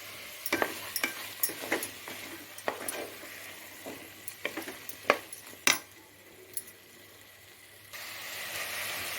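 Masala with coriander sautéed in a pan over a low flame for a hotel-style potato and green pea kurma, with a soft sizzle broken by repeated scraping stirs of a spoon against the pan, close and fairly quiet.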